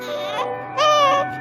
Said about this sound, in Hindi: उस बड़े से कूड़ेदान से एक बच्चे के रोने की आवाज आ रही थी।